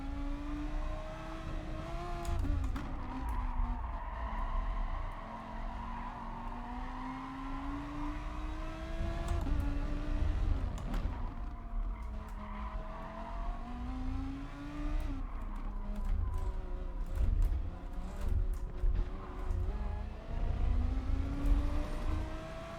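An Audi R8 race car in GT Sport drives continuously, its engine note rising and falling through gear changes and braking, loud and steady with no talking.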